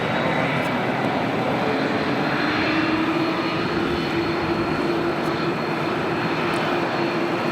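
A Korean Air airliner taxiing at LAX gives off a loud, steady engine roar that holds unbroken from start to finish, with no voices over it.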